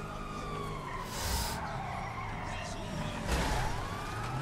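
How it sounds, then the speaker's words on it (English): A police car siren wails during a chase in the Grand Theft Auto 5 video game, rising and falling under engine noise and tyre skids, moderately loud with a second surge near the end. "Oh, it is a police car."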